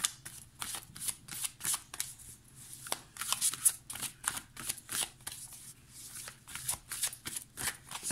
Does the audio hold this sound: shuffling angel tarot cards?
yes